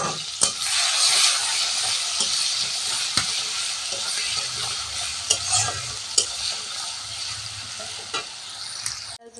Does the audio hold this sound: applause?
no